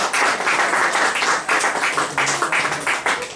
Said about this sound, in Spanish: Le damos una fuerte ofrenda de palmas a nuestro buen Dios.